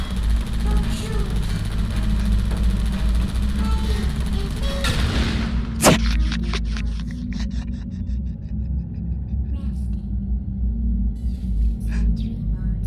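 Sentry turret gunfire in the video game Portal: Revolution, a steady rattling barrage with deep rumble that breaks off at a sharp loud crack, followed by quieter mechanical clicks and a synthetic voice speaking.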